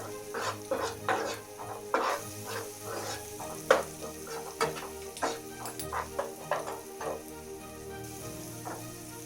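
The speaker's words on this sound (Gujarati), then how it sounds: "ડુંગળી સારી રીતે સંતળાઈ ગઈ છે।" Sliced onions sautéing with a little salt in a pan for masala dosa filling: a soft, steady sizzle under repeated rhythmic scrapes of a spatula against the pan.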